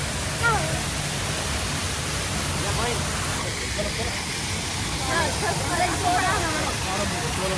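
A steady, broadband rush of water pours from the artificial waterfall at Shilparamam, filling the scene without pause while voices chatter faintly in the background.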